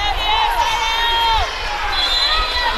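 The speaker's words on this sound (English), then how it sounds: "a very excited crowd here tonight" At a high school girls' volleyball game in a gym, a crowd cheers and shouts steadily, with high shrill voices rising and falling. A bouncing ball and chatter sit under the noise.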